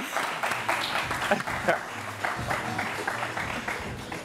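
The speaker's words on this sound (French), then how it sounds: "On les applaudit." A studio audience on a French television show claps after contestants leave the set, a dense, moderately loud round of applause with voices talking over and between the claps.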